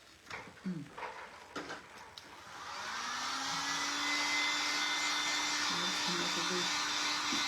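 A hair dryer drying a paint coat on a Patron bottle starts up after a few seconds of quiet talk and handling, then blows as a steady, close whooshing whir to the end.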